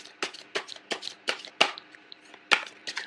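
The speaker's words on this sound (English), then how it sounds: "So I'm going to pull out the rest of the cards first" Tarot cards being shuffled and pulled, close and crisp, with a series of separate riffling snaps and slaps spaced roughly every third of a second against a quiet background.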